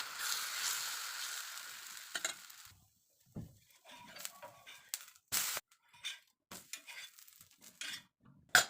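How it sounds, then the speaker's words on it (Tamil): Bottle gourd dosa batter hits a hot stone griddle with a brief, fairly quiet hiss, followed by scattered scraping and clinking of a spatula and utensils. "இப்போ கல் சூடானதுக்கப்புறம் தோசையை ஊற்றிக்கலாம்."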